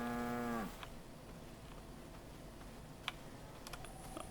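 A cow in the video game V Rising gives a single low moo that falls in pitch and cuts off within a second, followed by quiet ambience with scattered faint clicks.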